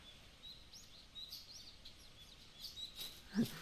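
Faint, scattered bird chirps and tweets in the video game Cineris Somnia, over a quiet ambient background, with a slightly louder burst of calls near the end.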